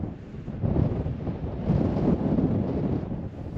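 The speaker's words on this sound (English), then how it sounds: "I don't know if you can hear me with the wind, because it is blasting." Strong wind blasts across an open trail, roaring into the microphone as a loud, steady rush that swells and eases without pause.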